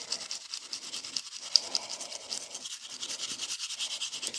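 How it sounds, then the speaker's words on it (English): A brush scrubs the metal frame of a Smith & Wesson M&P9 2.0 pistol along the trigger bar, giving steady close scratchy strokes in a quick repeating rhythm with no talk. "we're going to take our brush and we're going to start brushing"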